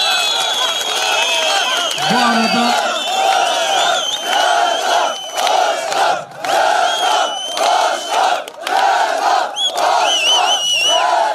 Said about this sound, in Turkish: sizden çok kuvvetli bir alkış istiyorum.